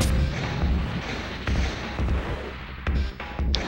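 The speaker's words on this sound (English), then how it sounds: "I think I actually get hit with a missile here" A missile striking the player's mech in the Zoids Battle Legends video game: a series of low, booming thuds and rumbling blasts recurring over a few seconds, with no talk.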